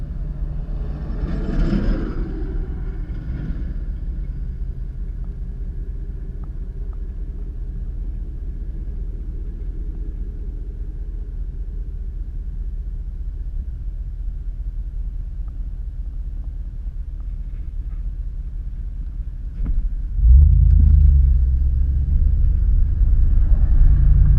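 A 2003 Toyota Tundra SR5 pickup truck drives along with a steady low engine rumble and road noise, rising in loudness near the end as it accelerates toward cruising speed.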